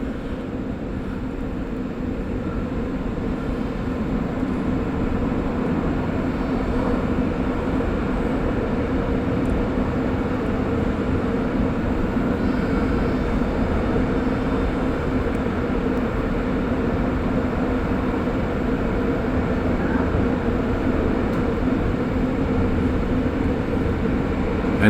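From inside a REM Deux-Montagnes test train running at full speed down a hill, a steady low rumble and rolling drone fills the cabin, continuous and even throughout without voices.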